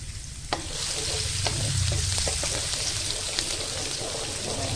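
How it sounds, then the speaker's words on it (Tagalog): Garlic drops into hot oil and fries with a loud, steady sizzle, close up, with a soft clatter of stirring and occasional ticks over the hiss and no talk. "Now, mainit na po ang mantika natin. Ilagay na po natin ang ating bawang."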